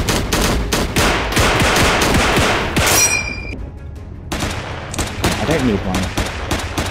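Video game gunfire in Cactus Cowboy, rapid repeated shots in loud bursts that break off briefly before resuming, with a voice talking over part of it.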